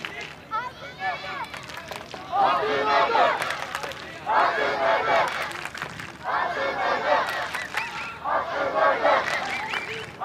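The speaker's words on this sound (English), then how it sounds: "Crowd trying to get them going now. Turkish fans in the far stand." Turkish football fans chant and roar in waves from the far stand at an international youth match against Bayern Munich, a distant crowd swelling in rhythmic bursts across the stadium.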